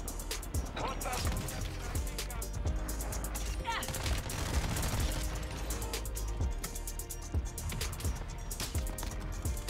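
Sniper rifle gunshots in a video game, sharp cracks scattered among other rapid gunfire and battle noise, fairly quiet overall, with voices talking throughout.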